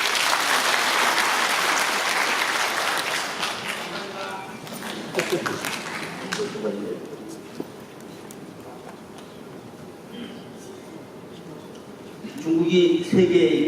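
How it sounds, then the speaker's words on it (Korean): Audience applause at a citizens' debate forum on a coal power plant, a dense burst of many hands clapping that fades after a few seconds, followed by quieter room sounds and voices. "박수 한번 치세요."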